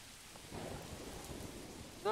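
Rain falling in the medieval city-building video game Manor Lords: a faint, soft steady patter with a low rumble, quiet throughout and ending in a brief sharp tone.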